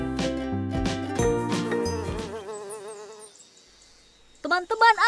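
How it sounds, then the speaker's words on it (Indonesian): A cartoon bee buzzes in an animated children's science lesson about symbiosis. The wavering, steady drone plays over background music, and a few short, bright chirpy bursts follow near the end. "Teman-teman awas, ada lebah."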